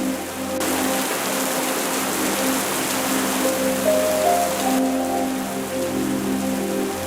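Heavy, steady rain pours down in a dense hiss, drumming on surfaces without letting up.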